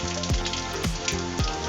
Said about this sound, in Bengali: একটা শুকনো লঙ্কা আমি চিড়ে দিয়ে দিলাম, আর 5 ফোড়ন দিচ্ছি অল্প করে।